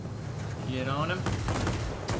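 Short bursts of 30mm aircraft cannon fire rattle out in World of Warplanes, loud and close, as a few sharp impulsive shots stand out beneath a voice talking over the engine noise.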